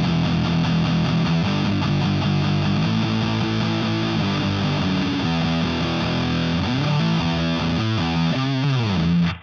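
Heavily distorted electric guitar runs through a virtual Soldano SLO 100 amp with a fuzz pedal, playing loud chugging riffs and sliding chord changes in a stoner-rock style, close and continuous with no talking.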